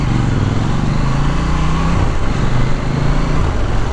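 A KTM Duke 790 motorcycle engine growls low and steady while riding, mixed with heavy wind rush and continuous road noise, with no talking.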